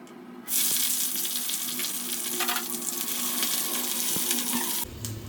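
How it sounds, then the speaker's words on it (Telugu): Green chillies deep fry in hot oil, giving a close, steady sizzling crackle that starts abruptly and holds for several seconds before dropping away near the end. "ఆయిల్లో పచ్చిమిర్చిని డీప్ ఫ్రై చేసుకోవాలి, గోల్డెన్ కలర్ వచ్చేంత వరకు."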